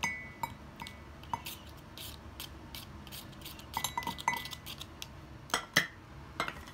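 A block of ice is scraped inside a glass to make small snowflakes, giving light irregular clinks and scratches over a steady background hiss, with sharper taps toward the end.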